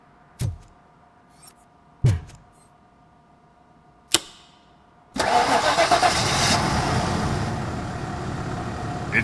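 Car engine in Robocop Rogue City, repaired after a disconnected coil: a few sharp isolated clicks, then the engine catches and turns over loudly, settling into a steady idle.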